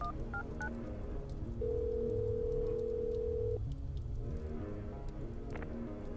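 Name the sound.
telephone being dialed in the video game Little Red Lie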